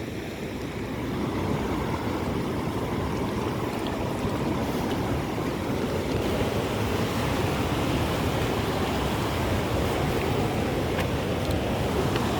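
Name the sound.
rushing flash flood water at a bridge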